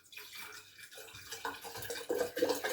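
Water poured into a glass bottle for a hydroponics plant setup, a steady trickling pour that grows fuller and brighter as the bottle fills, close by with no talk.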